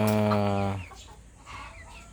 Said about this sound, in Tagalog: Inilipat po natin dito yung ating dalawang Rhode Island na malaki na.